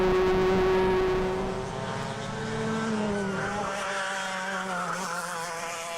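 Several high-revving Club100 racing kart engines at Bayford Meadows whine past together, pitches rising and falling as they pass, loud at first and then settling to a steady buzz.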